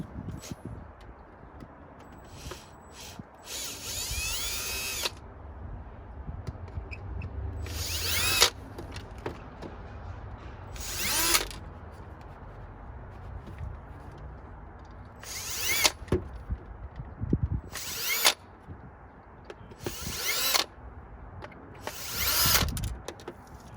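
A power drill whirs in short bursts, about seven of them, driving screws on BMW interior control knobs, separated by quieter pauses with faint handling noise between.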